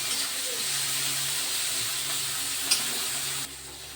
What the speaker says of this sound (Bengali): লবণটা দিয়ে ভালো করে টমেটোগুলো মিশিয়ে নিচ্ছি তেলেতে